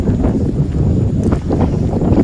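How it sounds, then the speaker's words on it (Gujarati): Strong wind at a dam buffets the microphone with a continuous low, rumbling roar, gusting unevenly throughout. "પવન આવે જોરદાર"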